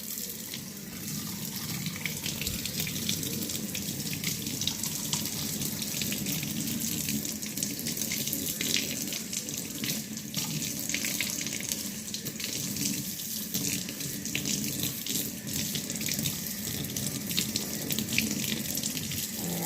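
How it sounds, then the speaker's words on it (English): A tap runs steadily into a sink during a surgical hand scrub while nails are cleaned, a continuous even rush of water with no speech over it. "clean your nails under running water using the pointy end"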